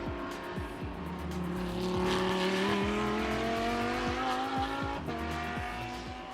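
GT race cars in the GTC class lap Sepang International Circuit in Malaysia, their engines roaring loudly and continuously with rising and falling pitch as several cars pass close by, no talk.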